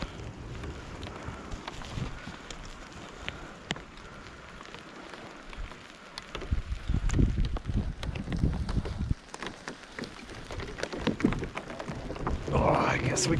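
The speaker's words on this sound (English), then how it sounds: "here comes the rain" Rain arriving outdoors by the water after trout kayak fishing, a hissing patter that builds and grows louder with gusts of wind and dull low rumbles, while people talk nearby.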